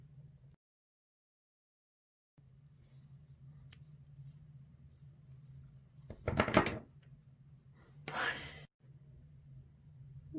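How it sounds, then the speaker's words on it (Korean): Scissors trimming the crochet yarn ends of a small net bag, a few close, crisp snips following a quiet pause, over a low steady background hum. "나머지는 그냥 가위로 끝에 이렇게 그냥 잘라주시면 돼요."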